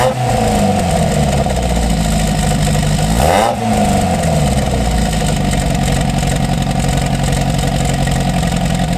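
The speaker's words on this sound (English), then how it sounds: "The rest of the exhaust has been changed, and it's 2-inch piping with a chambered Volkswagen muffler, and here's what that sounds like." A car exhaust with 2-inch piping and a chambered Volkswagen muffler drones loudly at a steady rev, then gets a quick blip that rises and falls around the midpoint before settling back to a constant throaty hum, close and alone.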